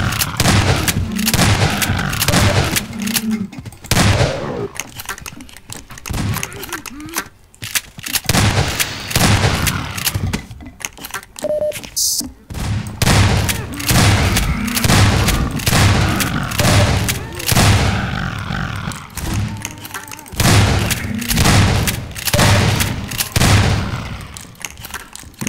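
Dense gunfire from the video game Half-Life 2 fills the whole stretch, with rapid bursts and single loud shots coming in clusters and short gaps between them, close and punchy, and no clear talking over it.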